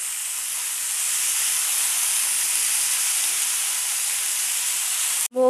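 Peas and radish pods (mogri) cooking in a pan give a steady, even sizzling hiss that holds for several seconds, ending in a brief clatter.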